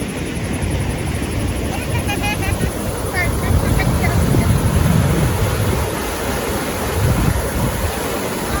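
Fast-flowing river water rushing steadily beside a riverside family campsite at Ciherang, Rancabali, Bandung, a loud continuous broadband roar filling the whole clip without a break.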